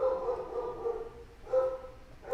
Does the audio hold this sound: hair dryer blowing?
no